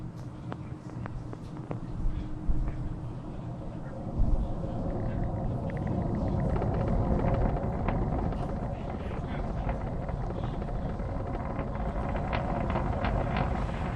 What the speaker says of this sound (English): Falcon 9 has successfully lifted off from Launch Complex 39A at Kennedy Space Center